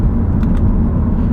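An Audi five-cylinder engine, in an RS3 or S3, growls in a steady, loud, deep rumble while downshifting into second gear, close up with no talking.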